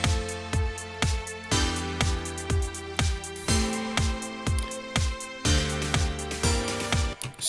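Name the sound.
simple lead melody over chords, JRPG village theme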